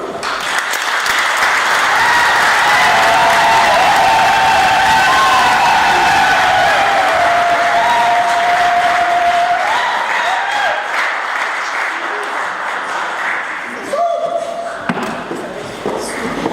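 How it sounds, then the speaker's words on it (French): Sustained applause from a gathered crowd for a couple about to marry, dense and loud throughout before thinning out and fading near the end. "on va encore le faire passer en applaudissant Cynthia"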